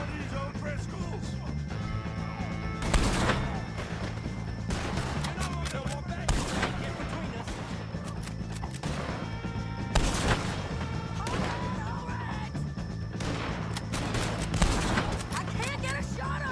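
Repeated gunfire in a Red Dead Redemption 2 shootout against O'Driscoll gang members, with loud broadband shots bursting at irregular intervals over a dense game soundscape of music and shouting voices.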